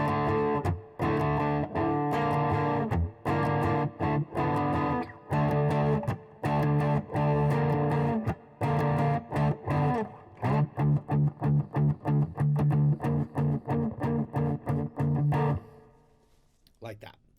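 A power chord played on the thicker strings of a distorted electric guitar, chugged in repeated loud strums with short gaps and a brief stretch of sustained ringing, ending with a quick choked fade.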